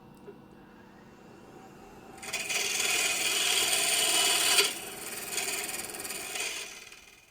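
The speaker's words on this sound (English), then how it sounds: "Now I'm truing up what will become the foot of the bowl." A wood lathe tool trues up the foot of a turned bowl held in chuck jaws, a soft rasp that swells into a loud, sustained scraping for a few seconds and then eases back.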